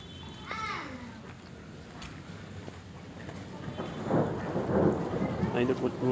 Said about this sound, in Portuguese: Realmente foi uma chuva muito forte, chuva de pedra aqui.